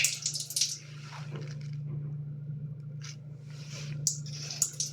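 Water falling from a fountain fixture on display in a showroom, a soft trickling and splashing that comes and goes in short bursts over a low steady hum.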